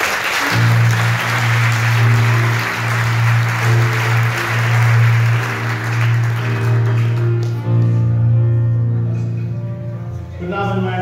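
A lecture audience claps warmly for speaker Andrew Crawford as steady background music plays along; the clapping is dense at first, then thins out toward the end while the music carries on.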